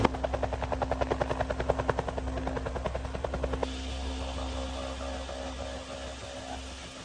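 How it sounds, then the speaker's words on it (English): Rapid rhythmic rotor chopping from helicopters delivering food, fairly distant, fading into a steady engine hum after a few seconds; no talking. "The helicopters were coming in with food to some people."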